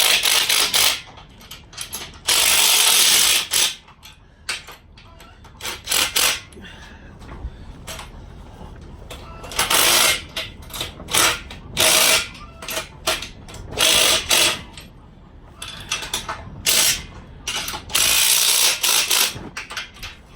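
Ratchet wrench snugging bolts on an off-road trailer build, heard as repeated bursts of fast metallic clicking in short strokes, close and fairly loud, separated by brief pauses and workshop clatter.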